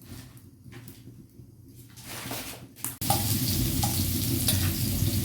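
Mustard seeds crackle in hot oil for a murrel fish curry: after a quiet stretch of stirring, a loud, steady sizzle erupts about midway, dotted with sharp pops that continue to the end.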